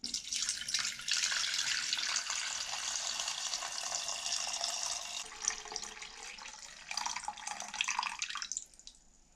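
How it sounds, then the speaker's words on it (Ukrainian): Water streams steadily into a metal saucepan holding currant twigs for several seconds, the pitch of the pour shifting as it fills, then trickles and stops. "Гілочки помістила в ковшик, наливаємо води."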